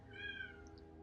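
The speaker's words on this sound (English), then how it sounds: "If you heard that, that's my cat." A female cat in heat lets out a single drawn-out, high-pitched meow indoors, loud and close, over a steady low background hum.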